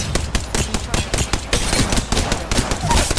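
Dense, rapid video-game gunfire, near and loud, with continuous overlapping shots and bursts under faint speech.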